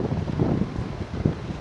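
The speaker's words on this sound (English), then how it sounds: "It's very windy now." Wind buffets a microphone on a windy hilltop above a village: a low, rough rumble that swells and dips in uneven gusts for a moment, with no voices.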